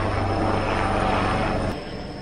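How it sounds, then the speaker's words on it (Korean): A loud, steady helicopter drone overhead at night, with a throbbing rotor rumble that fills the clip, then drops slightly in level near the end. "이 밤에 하늘에서 헬기가 나타나다니."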